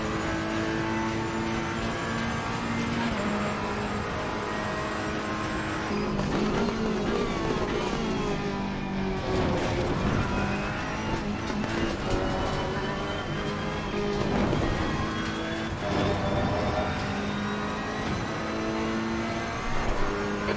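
Racing car engine screaming at high revs on a circuit, a continuous loud drone with rising and falling pitch sweeps as it shifts and passes, steady throughout with no talk.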